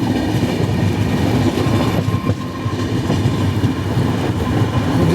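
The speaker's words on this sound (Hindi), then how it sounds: "अभी हमारी ट्रेन गुजर रही है बक्सा फॉरेस्ट के थ्रू।" The Capital Express, running under a speed restriction through Buxa forest, rumbles loudly from on board, a continuous roar of rolling wheels with faint rhythmic clacking.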